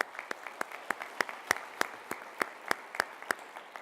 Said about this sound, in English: Round of applause for Mr. Stambaugh.